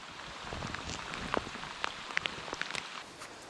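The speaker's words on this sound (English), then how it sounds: "The rain really started coming down" Rain falls outdoors on a western stream, a soft steady hiss with scattered sharper drops pattering on nearby surfaces, faint and with no talking.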